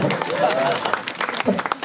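An audience claps and cheers in a dense, uneven patter with sharp transient bursts, mixed with overlapping voices talking and calling out.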